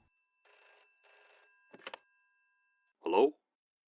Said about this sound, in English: Neil Barclay received a phone call.